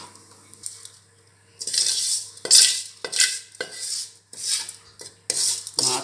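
Browned, roasted vermicelli is scraped and tipped into a cooking pan in several separate bursts of dry rattling and metal utensil scraping, with short quiet gaps between them.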